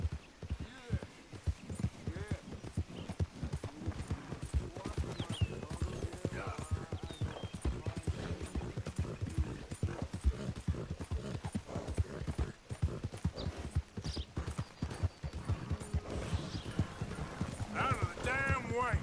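Steady horse hooves clip-clop in a continuous rhythm for a long stretch in Red Dead Redemption 2, loud and close, with a busy mechanical background and occasional voices.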